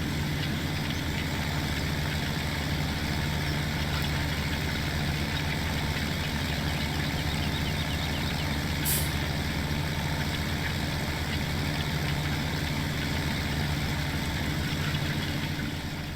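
A tractor engine idles steadily in Farming Simulator 17, a constant low mechanical drone with a faint knocking rhythm and no voices, heard close and unchanging for the whole stretch.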